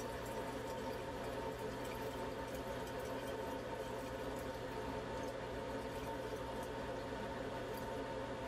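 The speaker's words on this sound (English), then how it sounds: "let's add another 1500 milliliters of distilled water" Distilled water, about 1500 millilitres, pours into a container holding silver nitrate solution, making a faint, steady, continuous trickle and splash with no talking.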